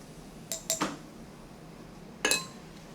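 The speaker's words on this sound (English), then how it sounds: "I'm going to decant most of the liquid layer off. I'm just going to use a stir rod here to guide the liquid down." A glass stir rod guiding liquid off a precipitate in a chemistry lab, heard as a few light glassy clinks: a quick cluster of three taps, then one more ringing contact after a pause. Quiet and close, with no talking.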